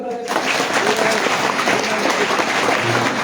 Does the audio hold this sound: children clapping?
yes